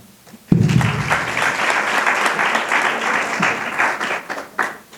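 Audience applause at a French-language and Francophonie week ceremony in Burundi, breaking out suddenly and sustained as a dense, even wash of clapping for several seconds before thinning slightly near the end.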